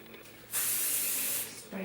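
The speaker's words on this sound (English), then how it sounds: "Spray my curl." A single close burst of aerosol spray, a sharp continuous hiss lasting about a second before stopping abruptly.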